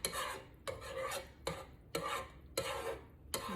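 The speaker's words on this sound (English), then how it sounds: "Get my spoon and scrape the sides." A spoon scrapes around the sides of a pot of thick eggplant and seafood stuffing, in five or six rasping strokes with short pauses between them, close and clear, with no talking.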